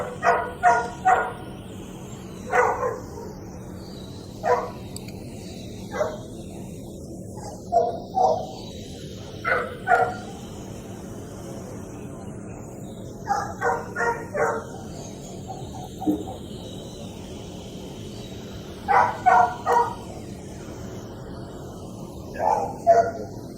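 Dogs bark from kennels in repeated clusters of sharp, loud yaps and bow-wows, separated by brief pauses over a low background hum, with no speech.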